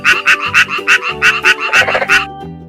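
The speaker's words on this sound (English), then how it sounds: "frog" Frog croaking in a loud, close run of about ten rhythmic, rasping croaks with short gaps between them, heard alone without talk.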